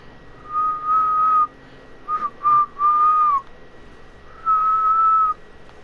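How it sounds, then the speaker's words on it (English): A person whistles a few sustained, steady notes in separate bursts with short pauses between them, clear and close against a quiet background. "This game actually taught me how to whistle."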